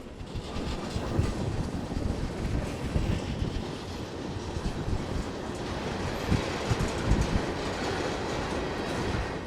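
A Missouri & Northern Arkansas Railroad freight train rolls past hauling a long string of grain hopper cars, a continuous loud rumble of wheels and car noise with light rhythmic clatter and no voices.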